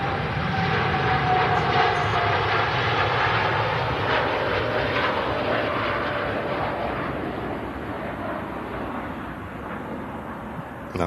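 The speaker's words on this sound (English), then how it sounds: "Now goes the Qatar Dreamliner." A Qatar Airways Boeing 787 Dreamliner takes off with a steady, powerful jet roar that fills the whole stretch, holding loud and close before easing slightly toward the end.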